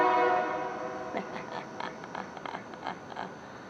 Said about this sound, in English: I guess the train just came.